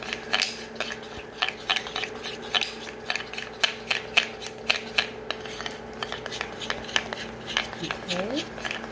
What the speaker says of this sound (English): So I'm just gonna vigorously mix it here.